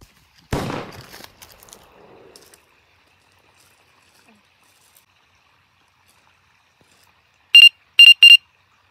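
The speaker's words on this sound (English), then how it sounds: "I have just heard shots." Three sharp, loud shots in quick succession near the end, heard by a SWAT officer during a tense search, following a burst of speech-like noise at the start and a long quiet stretch.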